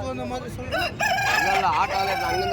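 A rooster crows loudly and close by at a country chicken market, a long rising and falling call, with other fowl clucking and faint chatter in the background.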